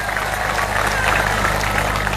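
Audience at an Islamic tabligh akbar lecture applauding together, a dense steady wash of clapping that fills the whole stretch at even loudness, with a faint murmur of crowd underneath.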